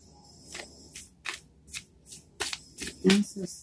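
Tarot cards are shuffled in a series of short, crisp riffling bursts, close and fairly quiet, separated by brief pauses.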